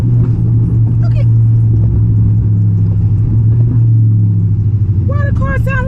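Loud Dodge Charger Scat Pack engine and exhaust, a deep steady droning rumble heard from inside the car, with a voice talking briefly near the end.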